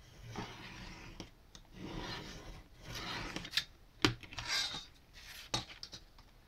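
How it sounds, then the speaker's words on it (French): Paper being folded and creased by hand while making a U-style binding, with soft rubbing and scraping strokes, a few sharper crisp snaps and creasing presses, close and fairly quiet. "vous voyez, j'ai plié. Hop. Voilà. Repassez bien sur vos pliures pour qu'elles se marquent"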